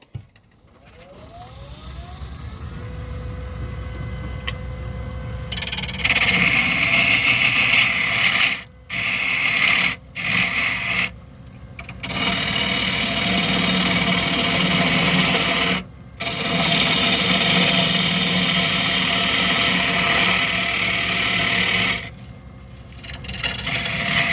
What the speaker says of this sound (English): I'm leaning across the lathe bed and sticking me gouging at a peculiar angle